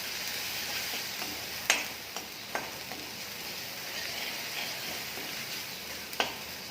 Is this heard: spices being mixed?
yes